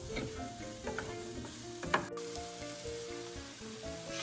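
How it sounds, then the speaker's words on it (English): Sliced garlic sautés in a pan with a soft, continuous sizzle, faint and close, with a single light utensil clink partway through. No one speaks. "you want to add the sliced garlic and saute that for another 2 to 3 minutes"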